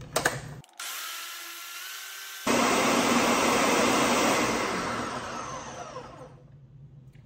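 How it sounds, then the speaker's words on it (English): A blender whirring while blending aloe vera, a loud, steady motor roar that starts, briefly pauses, then resumes at higher intensity for several seconds before winding down, close to the microphone with no speech. "and I'm just going to blend it now."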